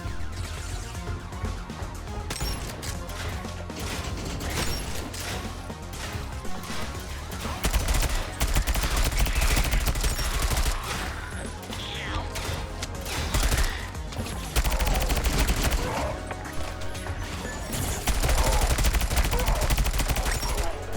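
Shotgun fire and other weapon blasts from the video game SENTRY, a dense, loud barrage of repeated gunshots with heavy low-end thumps and crashes over continuous game music and effects, no speech.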